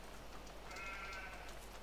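Sheep bleat in the farming video game Farming Simulator 17, a soft wavering bleat rising mid-clip over a steady low background hum, with no talking.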